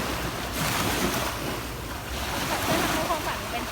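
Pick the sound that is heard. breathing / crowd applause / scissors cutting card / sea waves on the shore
sea waves on the shore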